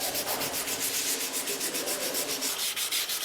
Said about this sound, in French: Chaque crosse ensuite est poncée au plus fin, de façon à donner un grain un peu plus soyeux pour la crosse.